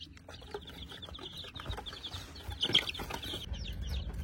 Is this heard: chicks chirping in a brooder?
yes